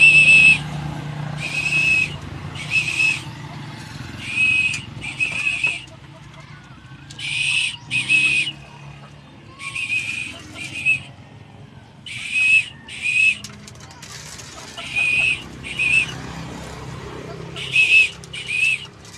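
Repeated short high whistles calling pet pigeons to feed, in loose bursts of two or three, loud and near over a low outdoor background.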